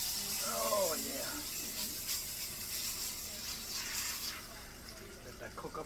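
New York strip steak searing in a hot pan, its sides pressed down to brown, gives a steady, fairly loud broadband sizzle throughout, with a brief vocal sound near the start.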